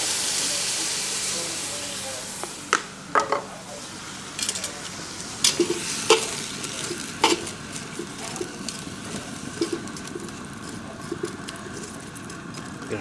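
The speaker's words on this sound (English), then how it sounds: "drop in the onions, a little bit of beer." Onions sizzle and hiss with a splash of beer in a Dutch oven for beef stew, a steady frying wash broken by scattered stirring knocks and clinks.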